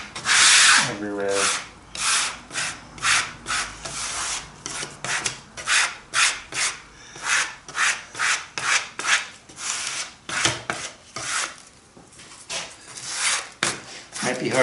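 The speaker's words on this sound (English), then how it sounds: "I'm getting sort of an even spread here with the trowel notch" A notched trowel scrapes repeatedly as it spreads glue across wooden boat panels, giving a steady series of close, rasping strokes in an uneven rhythm.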